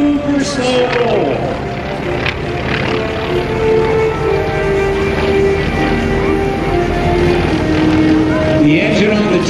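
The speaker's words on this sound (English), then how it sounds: "The engine on the T-28 has a very distinctive sound." A T-28 airplane's piston engine drones loudly and steadily during a low, slow-rolling pass at the 2009 AirPower Over Hampton Roads airshow, its rich harmonic roar holding throughout.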